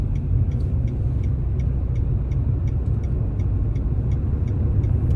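A Mitsubishi Xforce car rounds a corner on a test drive, heard from inside as a steady low road and engine rumble with faint regular ticking, with no talk.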